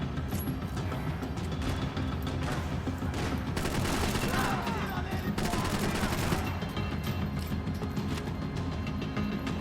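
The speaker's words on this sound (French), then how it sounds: "on pète les néons" Rapid, dense gunfire from Max Payne 3 rattles continuously, shattering neon lights in a relentless close barrage of overlapping shots and crashes.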